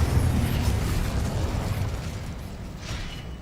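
An Incendio fire spell cast in Hogwarts Legacy, a roaring, rumbling burst of flame that stays loud and dense throughout before easing slightly toward the end.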